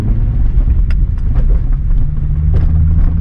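A manual Nissan 350z pulling away from a standstill, a loud close engine rumble with a rising tone as it accelerates, heard from inside the cabin without talking.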